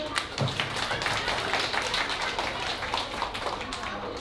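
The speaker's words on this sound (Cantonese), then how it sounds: "自信大方，再次俾多啲掌聲佢哋啊！" Parents in an audience applaud children after a kindergarten graduation performance, a dense continuous patter of many hands with faint voices mixed into the crowd noise.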